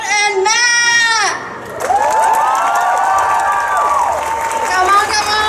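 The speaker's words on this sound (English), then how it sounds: "So I need a round of applause for Miss Afshan and Matt!" A comic con panel audience whoops and cheers loudly with applause mixed in, a dense crowd roar carrying high excited shrieks and overlapping voices that keeps rising and falling.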